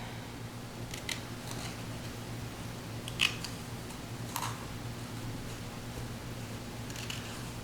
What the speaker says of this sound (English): We need to fussy cut it.